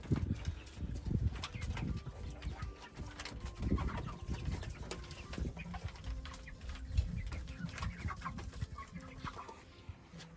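Chickens leaving their coop cluck and chatter in an irregular, overlapping stream at close range, with soft scuffling between the calls.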